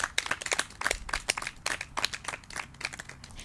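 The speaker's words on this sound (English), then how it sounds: "Please a round of applause for yourselves once again." A studio audience on a Nigerian talk show claps for itself, brisk uneven hand claps with sharp individual smacks, moderately loud and continuous without voices.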